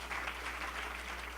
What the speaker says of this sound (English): So, give Freya a round of applause.